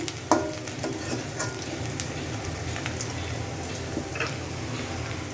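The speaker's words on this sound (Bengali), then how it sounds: "পেঁয়াজটা একটু বাদামি কালার কাছাকাছি হয়ে আসলে" Onions sizzle and fry in a pan until nearly brown, a steady soft crackle with a few clicks of stirring, close and fairly quiet.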